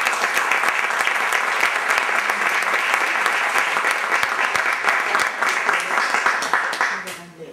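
Sustained audience applause at a poetry recital, loud and dense throughout, tapering off near the end.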